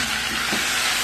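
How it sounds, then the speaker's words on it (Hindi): Tomatoes hit a pan of frying spinach and potato masala, giving a steady loud sizzle and hiss that runs unbroken for about a second, close up with no talking. "इसी के साथ साथ मैं इसमें डालूंगी टमाटो जो मैंने 4 कट करके रखे हुए थे वो इसमें ऐड कर दिए मैंने"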